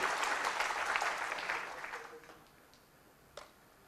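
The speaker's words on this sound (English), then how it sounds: "This clap can show how much energy you have got. Can we hear one more?" Audience clapping during a session on retail, a burst of many hands that is strong at first and then dies away into a quiet room, followed by one faint late clap.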